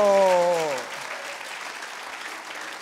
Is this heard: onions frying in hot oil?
no